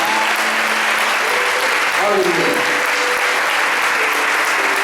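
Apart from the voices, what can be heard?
church congregation applauding loudly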